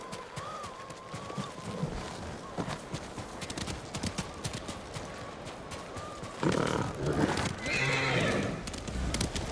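Horse hooves clip-clopping through snow in the Ghost of Tsushima video game, a steady walking rhythm of hoof strikes with occasional horse snorts and a whinny, plus a louder burst of game sound near the end.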